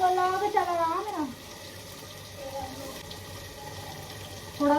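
Tap water runs steadily into a vessel with a soft, even rush, filling it in a home kitchen. A voice is heard briefly at the start and again at the end.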